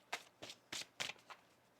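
Tarot cards are shuffled up close in five short papery bursts, the middle ones loudest, then the last one softer, with no voice over them.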